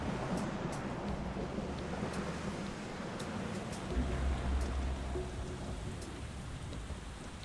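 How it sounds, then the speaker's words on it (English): Steady rainfall in Metal Gear Solid 2 on the PS2 patters on surfaces with a broad hiss, occasional sharper drops standing out, constant and fairly faint. "Oh, it's rain."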